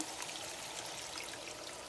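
Rinse water from a mixer jar pours steadily into a simmering paneer curry, a soft continuous splashing stream heard faintly and alone.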